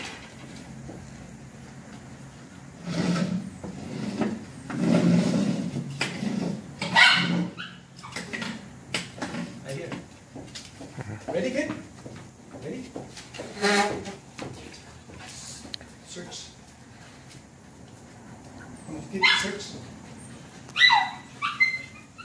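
A detection-trained dog working on boxes gives several sharp barks and some whimpers at close range, mixed with a person's scattered praise and a few knocks and thumps.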